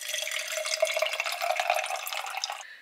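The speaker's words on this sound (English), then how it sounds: "Let's put this coffee in here." Coffee is poured into a cup with ice, a close trickling stream with a rising, gurgling fill tone and small clinks, stopping abruptly near the end with no talking.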